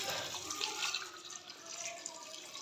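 Water is poured steadily into a pot of mutton karahi, a continuous soft splashing and rushing that stays fairly even and quiet throughout.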